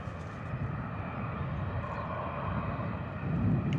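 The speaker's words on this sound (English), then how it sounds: "Rejected takeoff on the first attempt." An EasyJet Airbus A320 rejects its takeoff at Bristol Airport, a broad steady jet engine roar heard from a distance that swells slightly louder toward the end.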